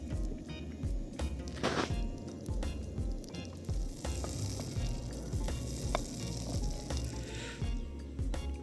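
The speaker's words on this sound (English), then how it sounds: "So I'm getting the pan red hot. Absolutely the best way to cook a steak." Tesco steak searing in a red-hot pan gives a steady, loud sizzle and crackle throughout, with occasional stirring and scraping sounds up close.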